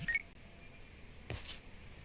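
Phone call alert in the Lost Judgment video game: a short electronic beep tone near the start, then a second fainter chirp about a second later, alone without talk.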